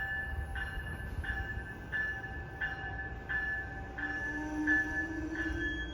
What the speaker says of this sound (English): all commuter rail trains uses the Graham White E-Bell, as you can hear